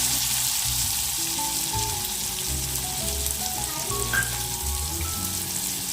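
Chopped onion frying in hot oil with mustard seeds, cumin and green chillies for corn rice gives a steady, close sizzle throughout. Soft low background music plays underneath.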